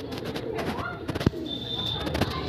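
Pigeons in a loft that houses birds kept for sale, giving soft cooing calls amid bird chatter and shuffling, with a short whistle-like tone partway through and a sharp knock near the middle.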